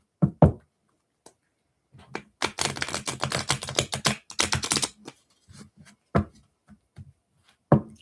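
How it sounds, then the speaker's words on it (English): Tarot-style cards shuffled for a reading, heard as close, crisp riffling bursts and scattered taps and knocks, with a dense flurry in the middle and quieter clicks around it. "Let me shuffle here real quick."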